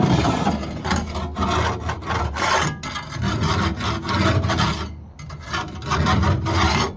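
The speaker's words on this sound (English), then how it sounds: "Turns out I got this floor scraper." A floor scraper rasps in repeated push strokes against the old 1986 Nissan farm truck, with rough, gritty scraping close by and brief pauses between strokes.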